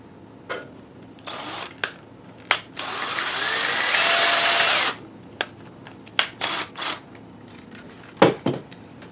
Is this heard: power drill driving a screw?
yes